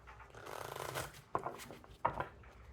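A deck of cards is riffled and shuffled up close, a soft flutter followed by two sharper snaps as the cards bridge together.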